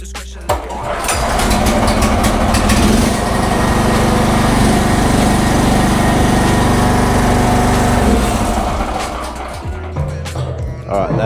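A Saber 9kVA portable generator's small engine starts and runs steadily at a loud, high-pitched roar for several seconds, then cuts back and sputters down.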